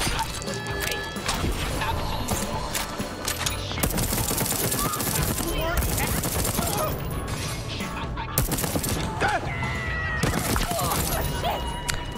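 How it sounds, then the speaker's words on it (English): Rapid gunfire and impacts from the first-person shooter Deathloop ring out almost continuously, dense bursts of shots with crashes layered over game effects, loud and busy throughout with no talking. "So this gun, I get healing back when I shoot people"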